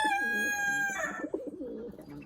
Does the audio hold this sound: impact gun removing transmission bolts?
no